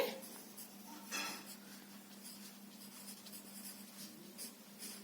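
Chalk or marker scratching out a word on a classroom board, quiet short strokes and rubs in bursts over a steady low hum, no talking.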